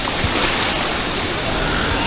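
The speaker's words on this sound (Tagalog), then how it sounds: "Medyo malakas po yung tubig." A dense, steady roar of strongly rushing water in a swimming spot in Bolinao fills the whole clip, loud and close, with no breaks.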